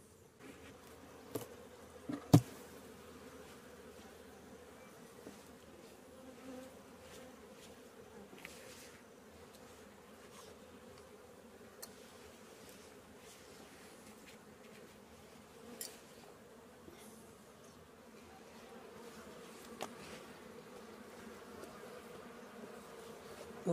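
Bees hum in a continuous low drone around an open beehive full of brood, close and steady for the whole stretch, with scattered clicks and knocks from handling the hive and no speech.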